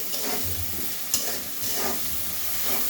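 Fish sautéing in a pan for lau pulao (bottle gourd fish pilaf), a steady close sizzle with soft stirring scrapes and one sharp clink near the middle, no voices.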